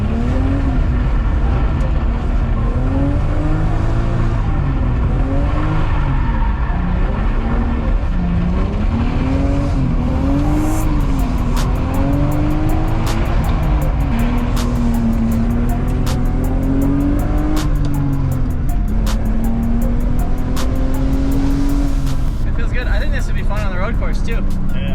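A BMW E36 drift car with a 2.8 engine revs and wails through rising and falling pitch sweeps, loud and close, with tire squeal and people talking throughout.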